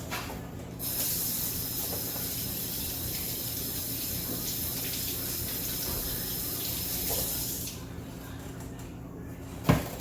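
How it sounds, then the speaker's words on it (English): Food is rinsed under a running kitchen tap, a steady close rush of water that holds level for most of the stretch and eases off near the end, with a faint voice in the background. "Rinse these off."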